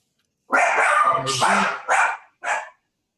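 A pet dog barks and yips in several quick bursts close to the microphone, with short gaps between them, heard indoors during a Friday evening Shabbat service.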